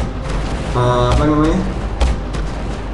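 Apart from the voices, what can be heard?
cannon fire from video game Drone 2 Air Assault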